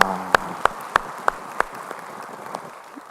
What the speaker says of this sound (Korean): 우리 찬양 받으신 주님께 영광의 박수 올리겠습니다.